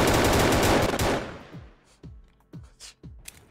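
Sniper gunfire in the video game Battlefield 2042, a loud burst of firing at the start fading out, followed by several sharp, separate shots spaced about half a second apart.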